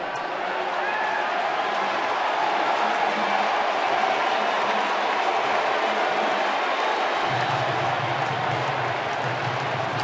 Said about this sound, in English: That cheer you just heard in the background was for Eli Manning